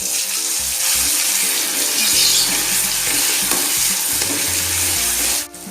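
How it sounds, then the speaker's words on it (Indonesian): Ground spice paste goes into hot oil in a pan and gives a loud, steady, close sizzle for several seconds while it is stirred, then cuts off abruptly at the end. "Kemudian kita mulai menumis. Panaskan minyak terlebih dahulu. Setelah panas, masukkan bumbu halus yang tadi."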